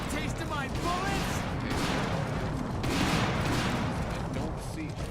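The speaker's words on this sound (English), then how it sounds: "I was hearing loads of gunfire from my allies" Dense, continuous gunfire from allied soldiers in the video game Earth Defense Force 2017, steady rapid bursts filling the scene with shouted game voices mixed in.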